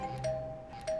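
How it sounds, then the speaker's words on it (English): A doorbell gives two soft ding-dong chimes about half a second apart, faint and slightly distant, with no voices. "This is how people literally have to ring the doorbell."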